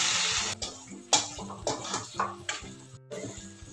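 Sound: hot water poured into cooking cluster bean (gavar) curry

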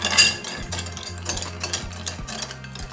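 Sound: stirring Campari and limoncello cocktail in glass

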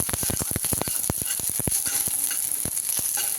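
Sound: garlic being sautéed in a pan

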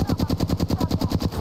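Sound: gunfire in the video game Apex Legends

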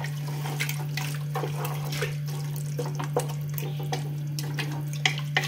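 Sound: glass of water poured into meat in cooker

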